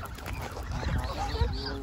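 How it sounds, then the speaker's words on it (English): Ducks or geese being fed crowd close around and honk loudly, with several overlapping nasal calls and bursts amid rustling outdoor noise. "We're surrounded by ducks."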